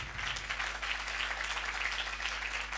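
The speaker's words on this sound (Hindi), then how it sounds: "इस तरफ वाले सारे तालियां बजाएं इनके लिए आप रहने दें जोर से बजाएं" An audience at a church youth seminar applauds in a dense, steady burst of clapping that carries through the whole stretch, with a low hum underneath.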